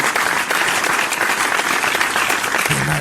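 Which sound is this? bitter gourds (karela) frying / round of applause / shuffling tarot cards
round of applause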